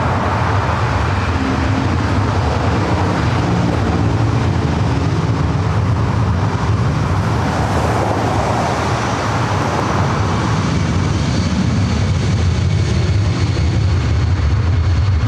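A Delta Airlines Boeing 757-200 jet roars at LAX as a broad, loud, continuous rumble that swells and fades at a distance, with no voices.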